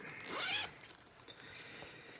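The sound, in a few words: zipper on a handmade bag with zipper pull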